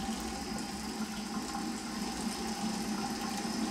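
Hot tap water runs steadily from a faucet into a sink during handwashing, a constant close hiss and splash with no talking.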